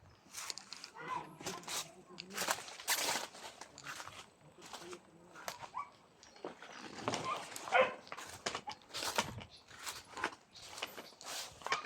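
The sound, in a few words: dog barking near a house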